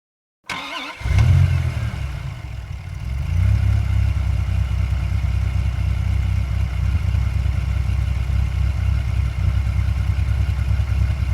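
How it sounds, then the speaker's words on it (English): A school bus engine cranks and catches, then settles into a loud, steady, rumbling idle that runs on alone without any talk. "School bus."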